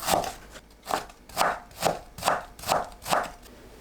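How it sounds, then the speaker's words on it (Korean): A knife julienning firm kohlrabi on a cutting board: eight even, evenly spaced chopping thuds about half a second apart, close and clear, with no talking. "채 썰어주세요"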